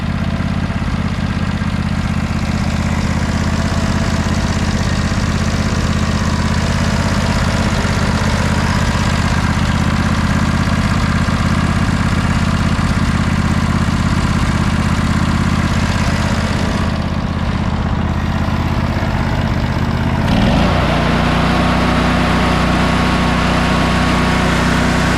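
An old tractor engine, just adjusted at the carburetor and governor, idles loudly and steadily up close with a low, throbbing drone; its pitch shifts slightly near the end.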